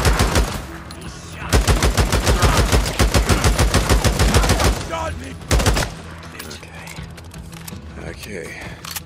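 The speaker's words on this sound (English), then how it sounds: "Open fire! He shot me! Shot me!" Rapid bursts of automatic gunfire from the video game Days Gone, loud and close, with a sustained volley in the middle and shorter bursts after, mixed with shouting voices.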